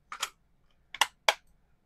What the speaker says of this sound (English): Hey, mouse's buttons are clicking.